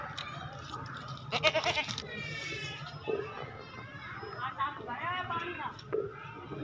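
Goats bleat at close range on a farm, several calls spread through the clip, amid voices of people talking.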